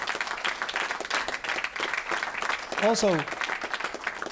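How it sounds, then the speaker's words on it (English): Applause from a live podcast audience, a dense burst of clapping that persists throughout, with a voice breaking in briefly near the end. "How about a round of applause for Norm MacDonald,"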